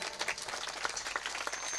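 A kirtan audience claps briefly at a village Sai palkhi celebration, giving a short, moderately distant patter of many hands that lasts under two seconds.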